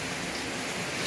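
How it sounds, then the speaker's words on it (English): Heavy, continuous rain pours down on a rainy morning, a dense, steady hiss with no breaks and no voices. "Has been having rains, and when I say continuously, I mean like continuously for the past 2 weeks."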